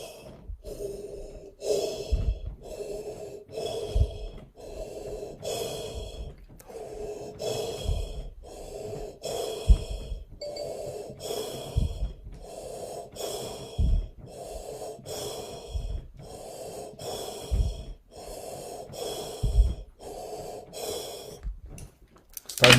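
Rhythmic breathing exercise voiced on an "O" syllable, with repeated audible exhalations and sharp intakes at a steady pace, close and moderately loud, with no other sounds.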